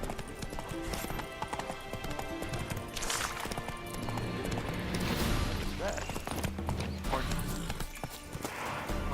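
Horse hooves clip-clop steadily in The Witcher 3 while a horse gallops around in circles, with occasional whinnies and game music mixed in over a continuous busy backdrop.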